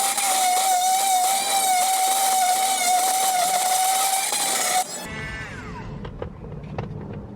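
Power tool grinding plastic to fit a remote switch in a Toyota Rav4 Prime, a loud steady high whine for about five seconds, then it stops and softer handling clicks and rattles follow.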